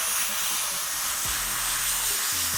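An airbrush sprays paint onto a hat through an adhesive stencil, a continuous close airy hiss lasting the whole moment, with faint low mechanical tones underneath.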